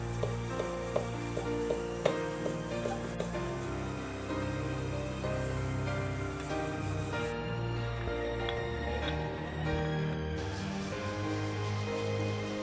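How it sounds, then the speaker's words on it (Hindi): Puris fry in hot oil with a steady, continuous sizzle, close and even throughout, and a few light clicks of a utensil early on. "इसी तरह से और पूरियां भी फ्राई कर लेंगे।"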